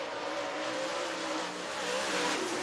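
A race car lapping Duck River Raceway Park in Lewisburg, Tennessee, a steady distant engine drone with shifting pitch as it runs around the track, continuous and moderately loud.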